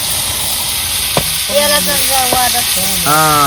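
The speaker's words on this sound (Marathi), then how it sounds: "आपली आई मोड आलेली मटकी तयार करते या ठिकाणी." Sprouted moth beans fry in a hot pan over an open flame, making a steady, close, loud sizzle, and brief voices are heard beneath it.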